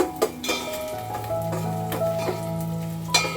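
Onions frying in a pan give a soft, steady sizzle, interrupted by a few clanks of a spoon or spatula against the pan.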